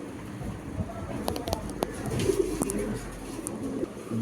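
Soft, low pigeon coos repeat against a rustling background, with scattered faint clicks and bird sounds nearby.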